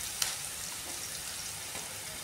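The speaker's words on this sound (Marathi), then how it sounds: "कांद्याला चांगलं परतू द्यायचं आहे। आता हा कांदा बघा परतत आला आहे।" Chopped onions frying in a pan for a soya bean bhaji, giving a steady hiss and sizzle with a single small tap near the start, close and moderately quiet, no talking.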